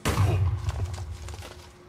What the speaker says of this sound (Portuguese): Olha a explosão.